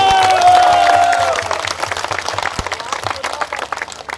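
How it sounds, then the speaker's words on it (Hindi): Crowd at a political rally breaks into sustained, dense applause, loud and close, with an amplified voice ringing over the clapping at first before the clapping carries on alone. "जोरदार तालियों से स्वागत करो।"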